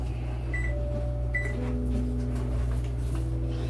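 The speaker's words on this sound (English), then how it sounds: "At this point, I could probably turn on the oven." A kitchen oven being switched on and set to 350 degrees while baking spicy bacon and cheese pinwheels: two short electronic control beeps sound over a steady, close appliance hum, with no talking.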